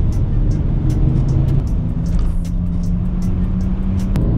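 A BMW 335d diesel pulls hard in fourth gear from 90 km/h, a steady loud engine drone with rising tone and constant road and wind roar throughout, no talking.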